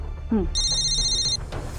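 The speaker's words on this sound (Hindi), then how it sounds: "सर, कांस्टेबल गीता का फोन था।" A telephone rings once with a bright electronic trill, loud and close, after a brief spoken sound at the start.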